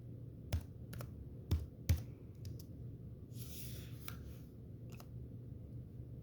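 Sparse keystrokes on a computer keyboard, a few sharp clicks spaced apart over quiet low hum, with a soft rustle in the middle; no voices.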